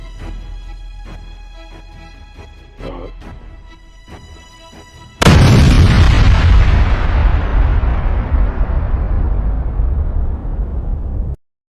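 Video game explosions: a booming blast erupts midway through, then a long, loud rumbling roar slowly fades out. Before it come steady tonal sounds with quieter thumps, and no one talks.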